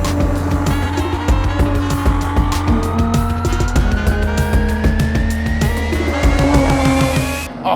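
A Lotus Evora GT engine revs hard through the gears, with rising pitch and bursts of exhaust noise, close and loud, no talking.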